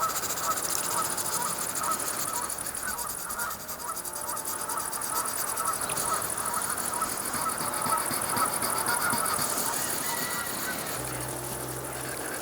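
Geese honk repeatedly against a steady outdoor background hum of cars in the Dutch countryside near Nuenen, a continuous chorus of calls at moderate distance.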